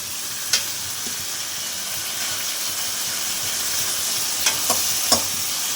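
Eggplant pieces coated in salt and turmeric fry in a hot pan for a Bengali chela fish curry, giving a steady, loud sizzle with a few sharp stirring clicks near the end.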